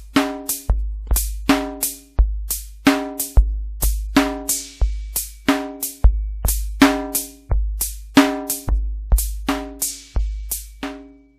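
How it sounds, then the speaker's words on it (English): Full synthesized drum pattern from a Nord Drum 1, with snare, closed and open hi-hats and kick playing a steady, fast groove, loud and close with no talking. "All the drums together sound like this."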